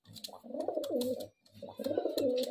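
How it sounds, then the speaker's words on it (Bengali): Giribaz highflyer pigeons coo close by in two short bursts of soft, throaty, rolling calls separated by a brief pause, with no talking. "তো চলুন ফ্রেন্ড আমরা পায়রাগুলো ছেড়ে দেখাবো, দুটোই কিন্তু নট পায়রা।"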